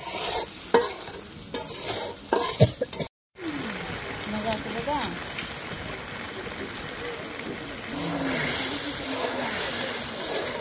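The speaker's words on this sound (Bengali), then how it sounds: "সরষে বাটাও মশলার সাথে একটু কষে নেব" Mustard paste stir-fried with spices in a pan for mustard hilsa in a village kitchen, with scraping stirring strokes over a continuous sizzle and a brief cut. A faint voice is heard in the background.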